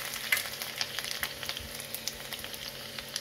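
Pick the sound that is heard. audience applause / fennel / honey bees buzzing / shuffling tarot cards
fennel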